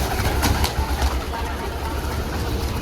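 Pigeons at a rooftop pigeon perch coo steadily and close, with a couple of brief flutters early on, over constant low outdoor rumble.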